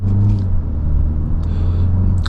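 Engine and exhaust drone of a 2025 MINI John Cooper Works Convertible while driving, a loud, steady low rumble from inside the car with faint high ticks, no speech.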